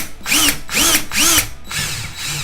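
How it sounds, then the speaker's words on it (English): A power drill whirs in three loud bursts, pitch rising and falling as it spins up and down, pre-drilling into a wood stud, followed by a fourth, softer run. "make sure you pre-drill the hole with a drill bit of some sort"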